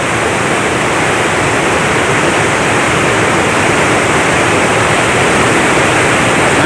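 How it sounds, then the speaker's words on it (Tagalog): Fast-flowing floodwater pours over an overtopped bridge in Sagay City, a loud, steady broadband rush of churning water that holds constant throughout with no pauses or voices. "kita nyo yung daloy ng tubig na nagbilis oh"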